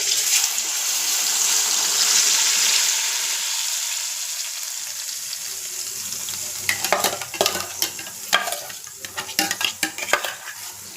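A ground chilli and turmeric paste is poured into a hot pan and sizzles loudly. A steady broadband hiss gives way to uneven bursts of spattering and scraping as the paste hits the oil. Nobody speaks.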